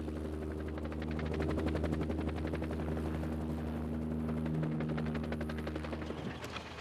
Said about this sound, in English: This is the chopper's tail rotor.